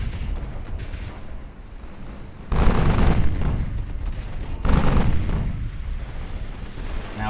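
Naval guns firing armor-piercing rounds in the warship game Ultimate Admiral Dreadnoughts: two heavy, booming salvos a couple of seconds apart, each with a long rumbling tail over a constant low background roar.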